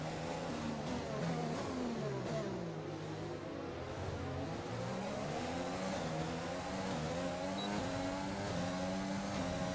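Formula 1 race car engines in F1 2020 roar and rev continuously, with several cars wailing through gear changes and pitch sweeps as they race close together on a narrow track, loud and steady throughout.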